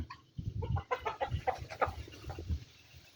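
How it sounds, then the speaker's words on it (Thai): Hens cluck repeatedly in short bursts, fairly close, with a low background rumble and a few overlapping bird calls, on a farm in rural northeastern Thailand. "ไก่"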